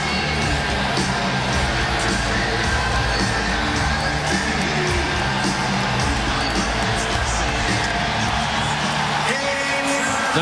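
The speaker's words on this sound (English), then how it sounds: "we'll listen to the crowd just to see if there's a build-up here before the opening draw" A packed hockey arena crowd at a Stanley Cup playoff game between Philadelphia and Pittsburgh roars steadily before the opening faceoff, a dense continuous wall of cheering, whoops and yells that never lets up.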